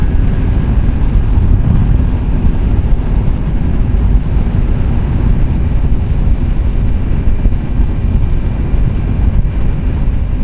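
Hard wind buffets a rider on the road during a motorcycle trip in Arizona near Sedona, producing a loud, constant low roar of wind noise across the microphone with no pauses and no voices.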